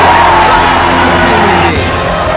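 Concert crowd cheering and yelling, a loud dense roar of whoops and shouts from many voices filling the whole moment.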